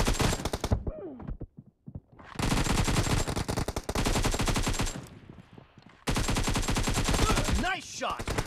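Rapid automatic gunfire in PUBG Mobile, loud bursts of repeated shots broken by short pauses, with a brief quiet stretch early on and a final burst near the end.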